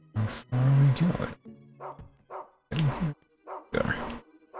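Dog barking in the PS2 survival horror game Rule of Rose, a few loud close barks in separate bursts, with whimpering yips between them and short gaps of near silence.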